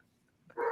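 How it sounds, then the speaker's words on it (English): A household dog, among several at home expecting an owner's return, lets out a single sharp bark burst after near silence, short and moderately loud at the very end. "my dogs are about to go really crazy because my wife's about to come home"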